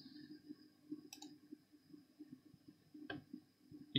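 A few sharp, quiet clicks of a computer mouse stand out over a low steady hum, spaced apart with near silence between.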